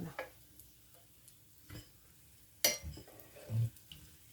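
Semolina makroutes fry gently in a pan, a quiet low sizzle broken by scattered clicks and knocks of a utensil against the pan, close and faint, with no talk.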